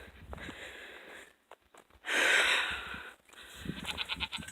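Goats bleat nearby, one loud drawn-out bleat standing out over quieter rustling and shuffling sounds.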